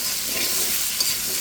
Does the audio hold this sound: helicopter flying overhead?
no